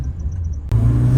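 A car drifting, its engine giving a loud low rumble that surges abruptly into a harder, louder roar partway through.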